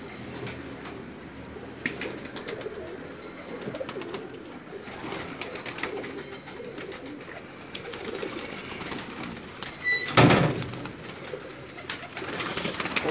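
Pigeons coo in a steady chorus as they start emerging from a rooftop loft, with a brief louder burst of flapping or rustling near the end and no talking.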